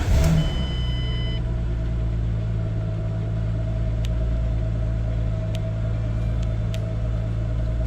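A 2005-2014 Ford Mustang V6 cranks and fires, then settles into a steady, close idle with a low rumble and even hum, a few faint clicks ticking over it.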